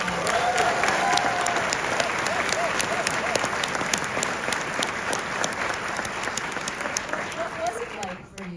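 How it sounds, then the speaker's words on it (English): Audience applause at a Killers of the Flower Moon Q&A with Martin Scorsese and Leonardo DiCaprio, a large crowd clapping in a dense, sustained wash with faint voices and a few cheers mixed in, fading near the end. "you received this arousing applause because you were just sensational in this film"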